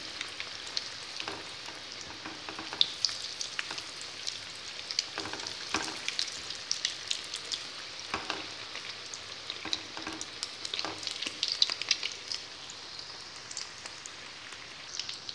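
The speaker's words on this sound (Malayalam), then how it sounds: "ഇപ്പോൾ ഫ്ലെയിം ഇച്ചിരി ഒന്ന് കുറച്ച് കൊടുത്തിട്ട് നമ്മൾക്കിതൊന്ന് വറുത്തെടുക്കാം." Chicken roll filling frying in a pan over a lowered flame produces a quiet, steady crackling sizzle like light rain, with occasional faint spatula taps and no talk.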